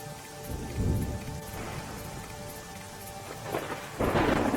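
Heavy monsoon downpour in Mundra taluka, Kutch, Gujarat: a dense, steady roar of rain with thunder rumbling beneath and a louder surge near the end, no voices.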